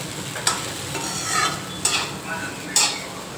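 A spoon stirs khichdi in a pot after salt goes in, with three distinct scraping strokes against the metal over a low cooking hiss, close and clear, no talking.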